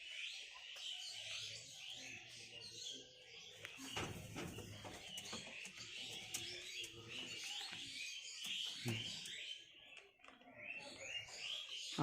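Four newly bought pigeons make faint chirps and soft calls in a quiet indoor space, scattered and low in volume, with occasional light rustling and bumps.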